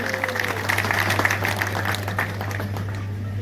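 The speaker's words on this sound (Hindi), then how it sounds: "एक बार जोरदार ताली हमारे सैनिकों को लिए" Outdoor audience at a public gathering in Nawalgarh breaks into sustained applause for the army's soldiers, a dense wash of clapping lasting throughout over a steady low hum from the sound system.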